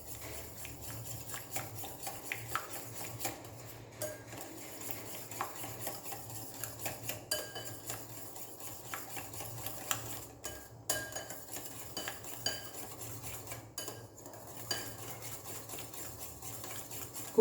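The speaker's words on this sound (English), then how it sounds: "First mix the butter well, then add 2 beaten eggs." Butter and beaten eggs for a microwave cake are mixed in a bowl, giving a soft continuous scraping and tapping of a utensil against the bowl at close range, with no talking.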